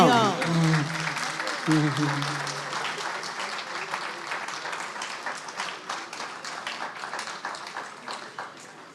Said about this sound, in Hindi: तालियां हाजरीन, तालियां।